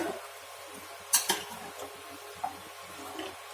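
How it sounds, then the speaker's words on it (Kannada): Mutton stirred in hot oil in a pan for sambar, with sharp metallic scrapes and clinks of a spoon against the pan over a faint sizzle, a couple of louder knocks early on, then softer scraping. "ಈಗ ಎಣ್ಣೆಲಿ ಹಂಗೆ ಸ್ವಲ್ಪ ಹೊತ್ತು ಎಣ್ಣೆಲಿ ತಿರುಗಿಸಾಡಿ ಬೇಯಿಸ್ತಾ ಇದ್ದಾಳೆ"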